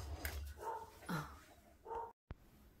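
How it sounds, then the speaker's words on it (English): A household dog barks in several sharp bursts indoors, fairly close, followed by a brief silence and a short yip. "our dog"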